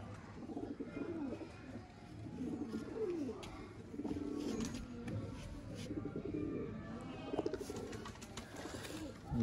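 A pigeon coos nearby in a series of soft, throaty rolling calls repeating every second or two, fairly quiet against a faint background murmur.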